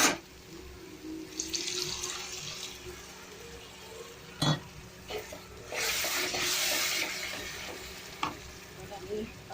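Water poured into fried masala for rajma in a cooking pot, hissing and sizzling with stirring sounds and a few clanks of a utensil, bursts rising and falling close by.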